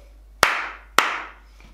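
Two sharp hand claps, a short gap apart, as a word is beaten out in syllables. Each is loud and close with a brief ring after it, in an otherwise quiet room.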